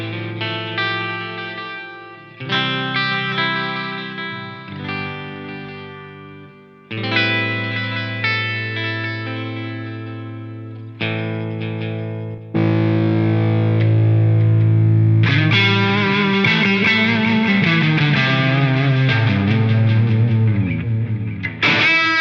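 Electric guitar through a Line 6 POD GO multi-effects unit, switching from a sparkly clean tone to a distorted lead tone: ringing chords give way to a thick, saturated sustained lead line, loud and close, with no speech.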